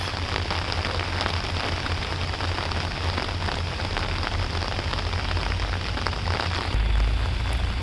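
Heavy rain pouring down in a dense, even hiss that stays steady throughout, with a low rumble swelling near the end.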